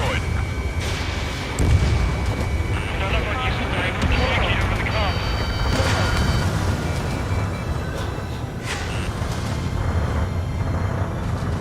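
A booming explosion from a destroyed target in the Ace Combat 7 jet combat game, a heavy rumbling blast layered over continuous aircraft engine roar and radio chatter voices throughout.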